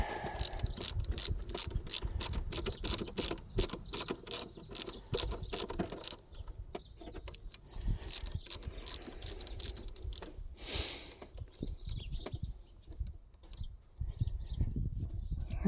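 Rattle gun impact wrench with an 8mm socket, hammering in rapid ratcheting bursts for about six seconds, then lighter intermittent clicks and mechanical rattles, close and loud with no talk.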